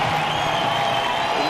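Crowd at a baseball stadium during a Yankees–Royals game, a broad steady wash of cheering and noise filling the whole brief moment, loud and continuous with no distinct single voices.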